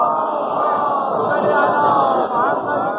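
A protest crowd at a sit-in outside Lahore Press Club recites salawat aloud in unison, a dense, steady chorus of many voices chanting together without pause.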